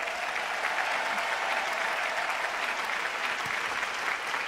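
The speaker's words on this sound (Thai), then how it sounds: "ขอเสียงปรบมือดังๆเลยค่ะ" A large audience at an Amway Thailand Double Diamond pin award ceremony applauds continuously for the company staff, producing an even, dense wash of clapping with no breaks.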